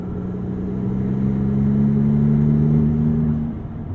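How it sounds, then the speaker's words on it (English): Maserati MC20 engine in Corsa drive mode, a loud steady mid-range exhaust drone with rising harmonics held for about three seconds, then easing off abruptly near the end. "Keeping us in Corsa drive mode, let's hear if that engine note has improved at all."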